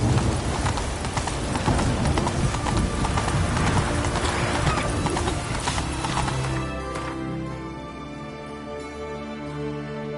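Horse galloping in The Witcher 3, a fast continuous drumming of hoofbeats, loud and close, that thins out and fades over the last few seconds into quieter game ambience.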